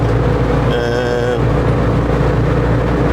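Noisy engine of a Morris Minor van drones steadily during a test drive, a constant close rumble with a brief whining tone in the middle.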